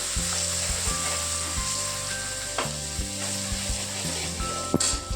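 Onions sizzle and fry steadily in a hot pan of toasted flour for paneer bhurji, a close, continuous crackle with occasional stirring scrapes and no talk.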